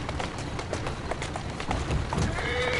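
In an Assassin's Creed Syndicate game, a horse trots with steady clip-clop hoofbeats, joined by a whinny and carriage rumble. It sounds close and continuous, with no talk over it.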